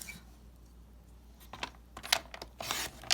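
A paper cutter trims a 6 by 6 sheet of designer series paper at close range: a few sharp clicks and taps, then a quick scraping slide of the blade.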